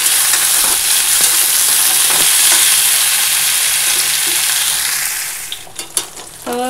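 Fish frying in hot oil in a pan, a loud continuous sizzle close up that fades toward the end, with a few clinks and scrapes as pieces are lifted out.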